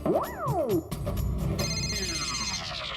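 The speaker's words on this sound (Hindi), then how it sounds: "मेरा मोबाइल बज रहा है भाई." A mobile phone rings with electronic tones that sweep up and down in pitch, followed by a busier, bright layered ringtone passage that holds steady at moderate loudness.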